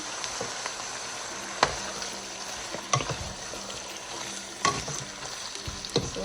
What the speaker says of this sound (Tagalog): I need to saute the chicken at least 5 minutes